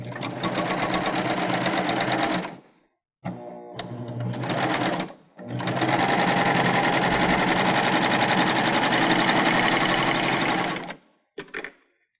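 A Baby Lock Euphoria sewing machine chain-stitching quilt patch pieces runs in steady rapid bursts, loud and close, stopping briefly between runs of stitching.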